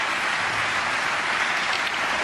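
A snooker crowd bursts into sustained applause after a fluked shot, a dense, even wash of clapping that holds at full strength throughout.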